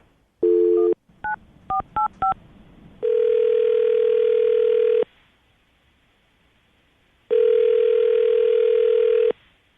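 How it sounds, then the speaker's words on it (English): A telephone call is placed: a short tone, a burst of rapid touch-tone dialing beeps, then two long, loud ringback tones separated by silence, with no voices. "I'm going to call her right now, get her on the phone"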